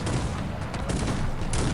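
Volleys from multi-barrel cannons in the Cossacks 3 strategy game, firing at Janissaries, form a dense, continuous rumble of overlapping blasts at steady loudness throughout.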